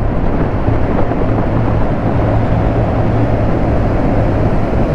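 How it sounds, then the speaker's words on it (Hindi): A scooter rides through a long road tunnel with trucks, heard as a loud, steady, dense roar of engine and wind that fills the whole stretch with no clear breaks and no voices. "यहाँ पे ट्रक आ गए तो थोड़ा स्पीड स्लो करना पड़ रहा है।"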